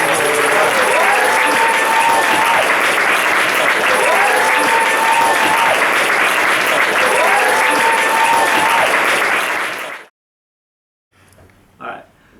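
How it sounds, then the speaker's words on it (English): Convention audience at Alcon 2014 giving a big round of applause, loud, dense and sustained for about ten seconds, with cheering voices mixed in, then an abrupt cut to silence and a brief voice. "Give yourselves a big round of applause."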